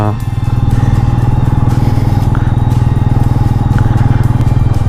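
A motorcycle engine runs steadily and loudly while riding a mountain road in North Sikkim, a constant close drone with no clear revving, and no voices over it.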